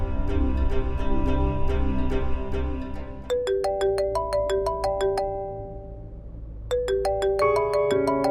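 A phone rings while a doctor is being called, a melodic ringtone that plays one looping phrase, stops briefly, then starts again, clear and close.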